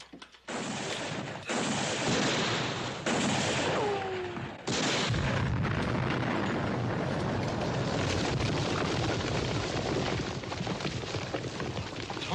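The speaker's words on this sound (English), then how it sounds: "Dynamite." A dynamite explosion in a Western setting erupts in a series of loud, heavy booms and blasts, followed by a long rumbling roar that fills the scene without speech.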